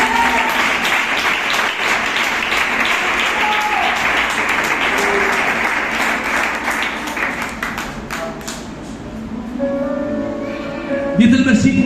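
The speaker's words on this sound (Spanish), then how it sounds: "Dan un aplauso al Señor." A church congregation claps and cheers during a Spanish-language sermon, a dense, steady wave of applause filling the room for most of the stretch before thinning out, with voices calling out over it.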